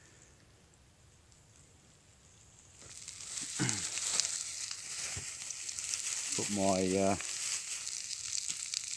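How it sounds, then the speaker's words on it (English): Sausages start to sizzle on a new grill over an outdoor campfire: a soft hiss swells suddenly and then holds steady and close, with a brief spoken phrase partway through. "Yep, starting to sizzle."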